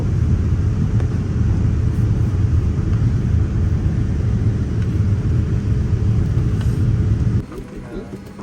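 A Thai Air airliner lands at Bangkok airport, heard from inside the cabin as a loud, steady low engine and rumble roar that drops off abruptly near the end.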